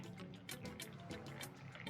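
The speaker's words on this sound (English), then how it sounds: "Pour myself some masala chai." Masala chai pours steadily from a teapot into a cup up close, a continuous gurgling trickle lasting a couple of seconds with nothing else over it.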